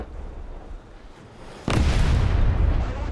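Drozd active protection system on a tank in War Thunder firing its defensive grenades: a sudden loud, close blast erupts partway through, following quieter rumbling, and its heavy booming roar sustains to the end.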